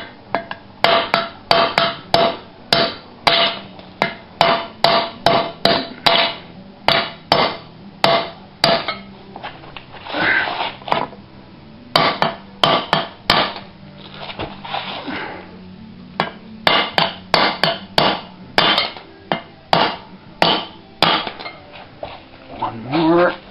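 Repeated sharp metallic hammer blows knocking wheel studs out of a Dodge 350 brake drum, struck in quick bursts with brief pauses, close and loud with no talking.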